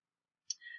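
A single soft computer mouse click sounds as a tab is selected on a course registration website, short and close in otherwise silent surroundings.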